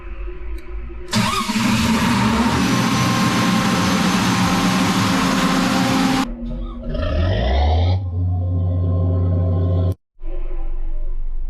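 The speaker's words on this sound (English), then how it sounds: "You just have to press the start button and the generator will start with the help of battery." A ship's emergency generator cranks on battery power and fires up, its engine roaring loudly and steadily for several seconds, then the starter engagement and rising revs repeat before a brief cut and continued running.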